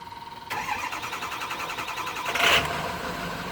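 A 2010 Ford E-450 with 83k miles starting up: a brief starter crank followed by the engine catching and settling into a steady idle, with a short surge in revs, heard close up and without talk.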